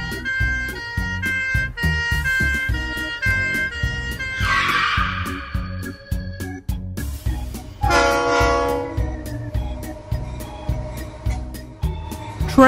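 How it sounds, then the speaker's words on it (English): A train rumbles along with rhythmic clacking, horn blasts sounding partway through over a steady musical backing. "Train."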